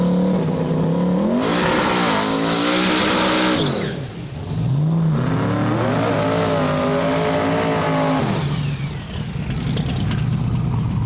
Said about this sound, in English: Turbo Drew Street Mustang taking on Mike from Stripper Glitter in the big one from the Turbo Camaro